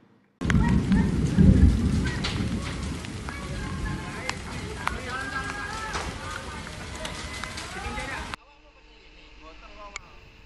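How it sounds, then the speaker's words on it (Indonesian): Heavy rain pours down steadily in Banyuwangi, with sharp cracks of thunder breaking through the dense hiss before the sound cuts abruptly to near quiet; a voice talks over the storm. "Hujan deras disertai petir di Banyuwangi"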